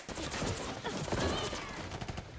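Gunfire in a movie fight scene from Birds of Prey, set in a warehouse, comes as a dense, rapid volley of shots blended with other action noise and faint voices.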